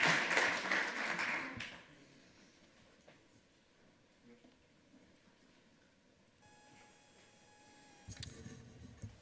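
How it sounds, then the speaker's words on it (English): Audience applause at a conference lightning-talk session, a loud burst of clapping lasting under two seconds before fading into a quiet room with a faint hum and soft tones. "Big round of applause for these angels that are helping me do this thing right now"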